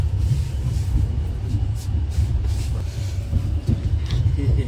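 Kashi Vishwanath Express running, heard from inside a first-class AC cabin, a steady low rumble of the moving train with faint rattles, continuous and close.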